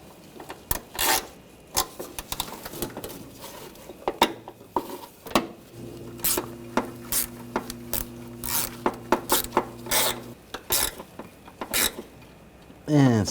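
Ratchet snugging down bolts on a starter of a 2004-2012 Chevrolet Colorado 3.7L, sharp metallic clicks and rasping bursts in uneven runs, with a brief low hum in the middle and occasional handling clatter.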